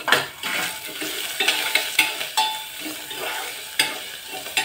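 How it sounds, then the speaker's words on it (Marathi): Peanuts, dal, ginger, dry red chillies, salt and coriander sauté in a pan, a soft sizzle under repeated clinking and scraping of a spoon against the metal as the mixture is stirred. "1-2 मिनिट आपण हे परतायचं आहे"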